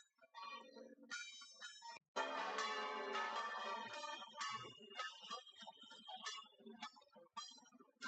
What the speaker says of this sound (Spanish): Suenan campanas. Es que Valladolid está lleno de iglesias y de conventos.